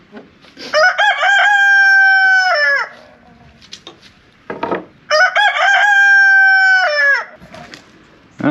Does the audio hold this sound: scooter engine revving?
no